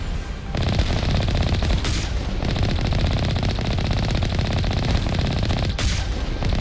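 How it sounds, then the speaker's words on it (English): Missile barrage in the Mass Effect video game: a dense, continuous rattling roar of rapid fire and blasts, loud and sustained throughout with brief surges, no voices. "It's a lot of missiles, though."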